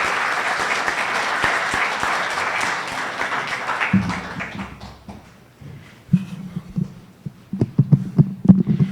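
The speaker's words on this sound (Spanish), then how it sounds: "Vamos a brindarle un caluroso aplauso." Warm applause from a lecture audience for a university professor's keynote talk, dense and steady for about four seconds, then thinning into scattered, uneven claps that trail off.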